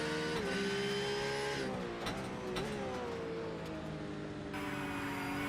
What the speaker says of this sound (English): There's nothing like a flat 6 boxer engine